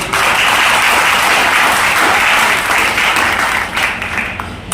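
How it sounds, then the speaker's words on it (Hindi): Loud, sustained applause from a business training audience clapping for themselves, a thick continuous wash of hands that holds strong before easing slightly at the close. "तो एक बार आप सभी लोग अपने लिए एक बार जबरदस्त ताली"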